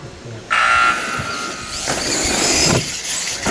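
Electronic starting tone at an RC car race: a sharp, steady beep sounds, breaks off, then returns in two more pulses over a background of buzzing model car motors.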